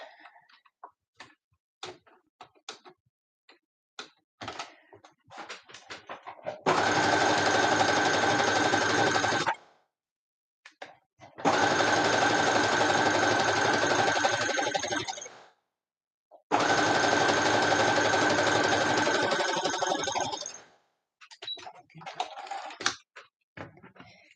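A sewing machine stitches side seams in three long, steady runs of several seconds each, close and loud, with light clicks and handling taps between the bursts.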